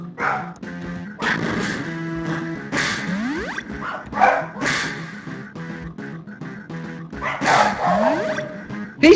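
Several dogs bark and yip repeatedly indoors, loud close bursts with whimpers between them, while sweeping game sound effects play underneath.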